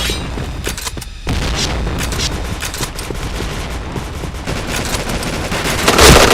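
Video game gunfight with a grenade blast: dense bursts of rapid gunfire run almost nonstop, with a heavy boom near the end, loud and close.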